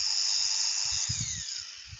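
An Arbortec Mini Grinder, a belt-driven power carving tool with speed control, whines steadily at high pitch close by, its tone sliding slightly downward while low thumps and handling noises sit beneath.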